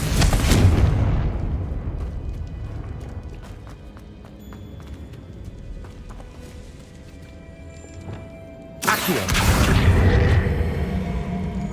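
A Confringo explosion spell going off in Hogwarts Legacy, a loud booming blast that decays into a long rumble, followed later by a second sudden, equally heavy explosion.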